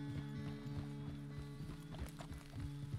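Horse hooves clip-clop at a steady walking rhythm in Red Dead Redemption 2, close and clear over a low sustained tone, with faint voices talking underneath.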